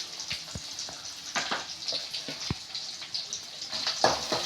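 Chopped onions sizzle in a pan for chicken kulambu, a soft, steady frying hiss broken by scattered pops and stirring clatters, fairly quiet and close.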